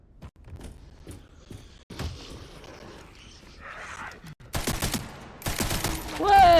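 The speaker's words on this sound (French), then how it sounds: "Donc j'imagine que c'est avec les munitions de mitrailleuse que je tire." Machine gun fire in the video game Resident Evil Requiem comes as bursts of rapid shots in the second half, louder toward the end, with a player talking over the game sounds.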